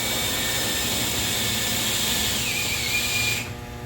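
A drill countersinks a hole in the build of a downdraft table, a loud, steady high-pitched whine running continuously for several seconds, then easing off near the end.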